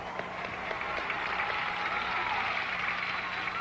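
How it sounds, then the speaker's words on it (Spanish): A studio audience on a television special applauds to welcome former Miss Universe Dayanara Torres Delgado, a dense, even roar of many hands clapping at steady loudness from start to finish. "Vamos en este a pedir momento un fuerte aplauso para recibir a Dayanara Torres Delgado."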